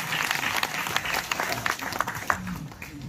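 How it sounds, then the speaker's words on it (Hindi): Audience applause at a Hindi kavi sammelan (poetry gathering) in Duliajan, a dense spread of claps filling the hall steadily for a few seconds, with faint voices mixed underneath. "मैं चाहता हूँ एक बार और जोरदार तालियां हम उनके लिए बजाएं।"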